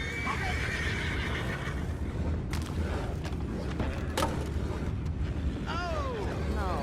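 A horse in Red Dead Redemption 2 whinnies near the start and again near the end, fairly quiet over soft hoof clops and game ambience.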